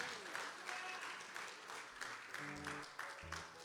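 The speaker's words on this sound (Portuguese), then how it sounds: "Então bate uma salva de palmas forte para Jesus" Church congregation applauding for Jesus during a service, steady mass clapping at a modest level with voices speaking and calling out over it.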